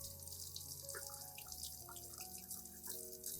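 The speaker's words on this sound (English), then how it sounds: "rinse the plant thoroughly under clean running water" Water runs steadily from a tap over a plant being rinsed, with a few scattered drips, partly masked by soft background music.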